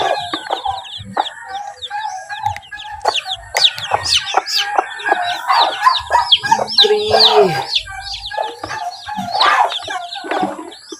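Farmyard chickens with a few newly hatched chicks: close, loud clucking and busy high-pitched peeping overlap continuously, with occasional sharper calls throughout.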